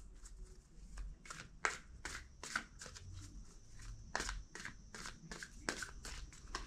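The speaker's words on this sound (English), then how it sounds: "Two more shuffles." A deck of tarot cards being shuffled by hand, a quick series of crisp riffling snaps and flutters repeating close to the microphone against a quiet room.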